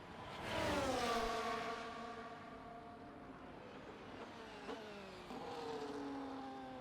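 Race car engines in a Formula 1-style racing video game at Bahrain, a Ferrari following closely, with several engines whining and shifting pitch as cars rise, pass and drop away, a steady drone throughout.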